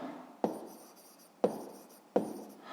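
Numbers written by hand in three separate bursts of pen or chalk scratching, each starting sharply and fading, close and quiet with no talk.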